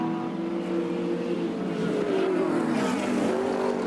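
Touring car racing engines from the 1983 Australian Touring Car Championship round at Surfers Paradise Raceway, a loud steady roar with the pitch dipping and rising as a car works through corners, continuous throughout with no talk.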